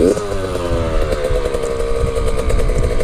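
A Yamaha 65 YZ dirt bike engine revs loudly and close, pitch climbing and dropping as it shifts through the gears, with a steady buzzing drone throughout.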